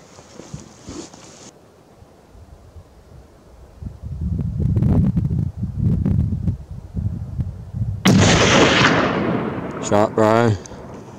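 A rifle fired while hunting tahr on the Main Divide of New Zealand's Southern Alps in early winter gives one sharp, loud crack late on, after rustling outdoor noise, and someone speaks briefly afterward.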